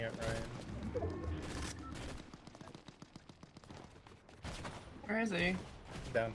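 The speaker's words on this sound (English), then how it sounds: "I see this guy shooting at Ryan" Rapid bursts of gunfire in a Fortnite match, with repeated sharp shots in quick succession through the middle of the clip, fairly loud. A voice talks near the end.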